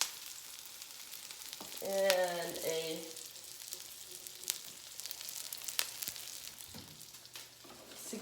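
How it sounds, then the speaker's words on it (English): Soft sizzling of herbs in a very hot pan while making bread, faint and steady, with a brief spoken phrase near the start. "you can hear it sizzle because it's a very hot pan"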